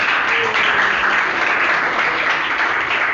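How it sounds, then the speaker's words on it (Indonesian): A classroom group gives steady applause, a dense, even wash of clapping hands that holds at full volume for a few seconds. "tepuk tangan buat kamu"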